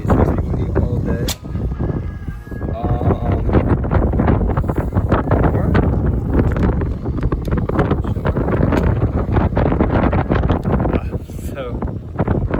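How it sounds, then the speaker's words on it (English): Strong wind blows outdoors during snowfall on a snowy day in Muncie, roaring and buffeting the microphone in a loud, continuous rush with uneven gusts throughout. "it's just starting to get windy. It's supposed to be windy all day."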